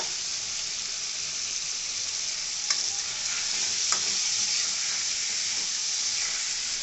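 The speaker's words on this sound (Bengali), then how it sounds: "আমি এবার পেঁপেগুলা দিয়ে দিলাম।" Papaya pieces dropped into a pan of frying spiced fish curry masala, a steady loud sizzle throughout with faint stirring knocks, no talk.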